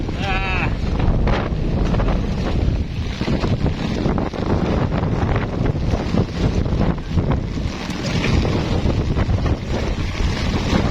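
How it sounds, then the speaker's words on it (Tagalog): Strong, steady wind roars across the microphone for the whole stretch, with water and brief shouting voices underneath, during eel fishing. "Ang hangin!"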